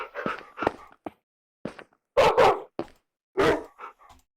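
Dogs barking in a video game, a string of short close barks and yips in separate bursts with silent gaps between them, a few louder barks standing out.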